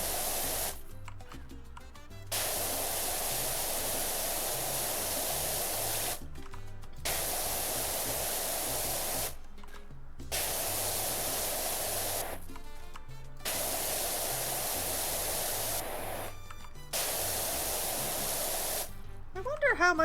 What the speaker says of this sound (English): Looks like I sprayed a little soap over here.